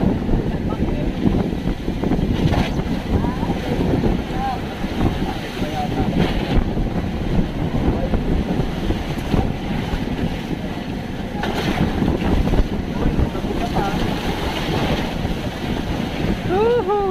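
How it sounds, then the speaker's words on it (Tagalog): Big waves on the Pacific Ocean churn around a tuna fishing boat while strong wind buffets the microphone, a loud, steady roar of water and gusts with occasional heavier surges. "Lalaki ng alon"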